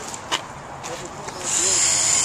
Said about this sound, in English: Oh, you're drilling those?